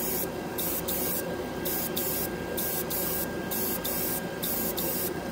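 An airbrush sprays ChromaAir purple paint onto a plastic scale model in a close, steady hiss, broken by short rhythmic bursts and pauses as the trigger is pulsed.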